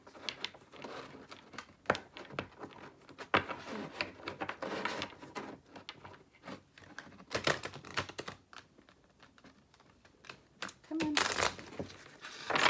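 A deck of tarot cards being shuffled quickly by hand at close range, giving steady soft riffling, patting and slapping with a few sharper snaps over about thirteen seconds.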